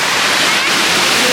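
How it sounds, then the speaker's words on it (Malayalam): A small waterfall at Mudavannur gives a steady, close, broadband rush of falling water that fills the whole moment without a break. "ഇതാണ് ചെറിയൊരു വെള്ളച്ചാട്ടം എന്ന് പറയാം"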